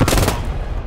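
Machine gun fire in the Squad 44 video game, a short loud burst of rapid shots at the start that quickly decays into a rumbling echo.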